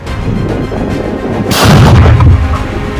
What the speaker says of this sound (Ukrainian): Наш розрахунок працює на самохідних артилерійських гаубицях 2С3, акація так звана.